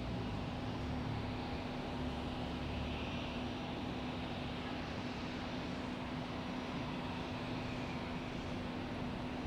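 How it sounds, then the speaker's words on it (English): A Delta Boeing 737-800 airliner arriving at Tampa International Airport makes a steady broad roar with a constant engine whine, sustained and moderately distant throughout. "Next arrival will be Delta 2454 737-800."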